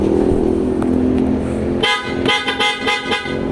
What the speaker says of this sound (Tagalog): So combine siya ng stock horn tsaka yung Pia Auto Style Horn.